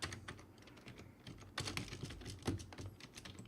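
Quick, steady keystrokes tap on a computer keyboard as a header comment is typed, in close, soft, continuous clicking with brief pauses.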